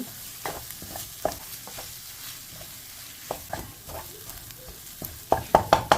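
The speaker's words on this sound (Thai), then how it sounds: "แต่เนี่ยก็คั่วผัดให้มันเข้ากัน" Chili paste is stir-fried with garlic for a Lao-style khao soy sauce, a low steady sizzle under repeated spatula scrapes that quicken into loud clacks near the end.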